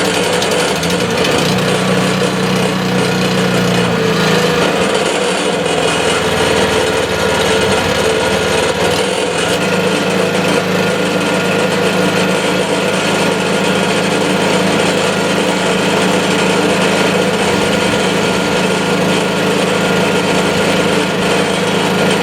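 A small riding mower engine with the choke applied after carburetor maintenance runs loud and close with a steady high-pitched drone, its pitch shifting briefly around the middle before settling.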